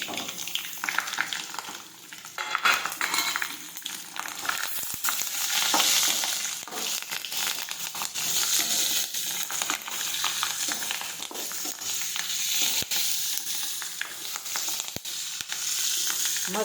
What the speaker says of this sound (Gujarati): મરચાં છે તે આ રીતે તળાઈ જાય ત્યાં સુધી આપણે તળાવવા દેવાના છે.